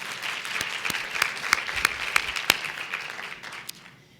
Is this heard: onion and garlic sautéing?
no